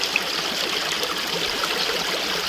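A creek in the West Virginia hills flows steadily, its close, even rush and trickle filling the air without pause.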